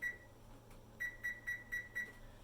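An oven timer in a home kitchen gives a short beep, then five quick evenly spaced electronic beeps, faint but clear over a quiet background, with no talking.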